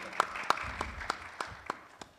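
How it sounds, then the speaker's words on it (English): Audience applause at a Baltimore public safety talk as a civilian review board chair is introduced, a steady wash of clapping with a few sharper, closer claps standing out at regular intervals. "You can applaud"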